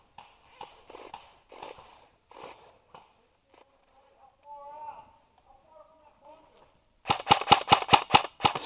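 Airsoft guns firing during an airsoft skirmish: a rapid burst of about six sharp, loud pops near the end, after stretches of close, murmured talk and quieter rustling.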